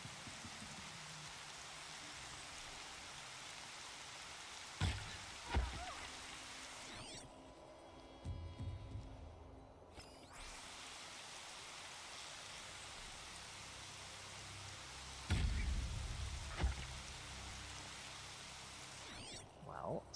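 Rain in the video game Horizon Zero Dawn, a soft, even patter of drops on surfaces continuing throughout, broken by a few thumps and rustles from movement.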